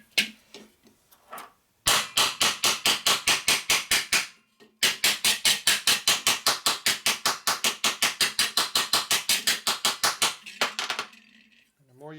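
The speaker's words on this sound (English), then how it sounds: "And the more you beat on it, the more it's going to make it unflat." A metal Linkert air cleaner from a 1955-65 Harley panhead is hammered flat, with rapid, evenly spaced sharp metallic blows in two long bursts separated by a brief pause, loud and close.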